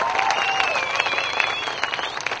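An audience at a music launch event breaks into loud applause, dense clapping with a few cheers, steady and close, fading slightly toward the end.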